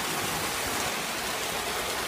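Steady rain falls outside beside a porch, a dense, even hiss of drops spattering on surfaces that fills the whole moment without a break, close and fairly loud, with no voices.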